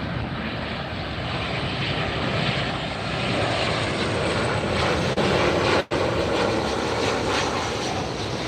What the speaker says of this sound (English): Southwest 2773 coming in from San Jose.